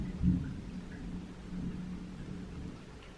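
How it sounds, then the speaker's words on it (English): Distant thunder rumbles low and soft, a faint swell near the start and another a moment later, with no one talking, heard from indoors in Alaska during a spell of widespread wildfires. "I think that's thunder"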